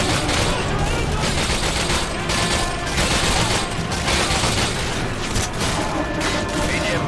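Dense, continuous automatic gunfire and explosions from the Call of Duty Modern Warfare 2 video game mission Contingency, loud and unbroken throughout, with shouted in-game voices mixed into the battle.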